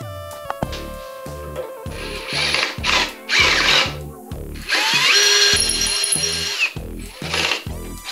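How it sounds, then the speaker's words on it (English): A power drill whirs in repeated bursts, grinding and screeching as it bites into a metal mounting plate, with short pauses between runs. "drill holes through this plate so I can bolt it on"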